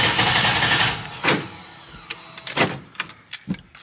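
A 1973 Chevy Impala with a new EFI fuel system and aluminum gas tank cranks loudly at first, then the starter stutters in several short, sharp bursts before falling quiet.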